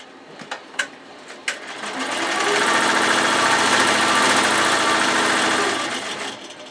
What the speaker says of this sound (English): we are going to sew the next color, which is going to stitch down the fabric on all 4 sides